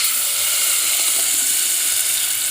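Tomato sauce for Egyptian koshari hitting a hot pan, giving off a loud, bright, steady sizzle and hiss with no voices.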